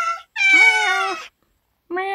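A cat in a video game meows loudly and close up, one short call followed by a long drawn-out meow, then a pause and the start of another.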